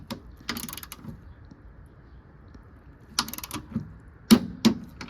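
A torque wrench tightens the front strut mount top hat on a Nissan 200SX S12 during suspension lowering, giving short bursts of sharp mechanical clicks separated by quiet pauses, with two quick final clicks near the end.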